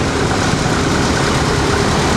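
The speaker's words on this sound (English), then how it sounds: "he's got a 1928 Maytag engine" A 1928 Maytag engine runs at a tractor show display, giving a steady, dense mechanical rumble that stays close and loud throughout.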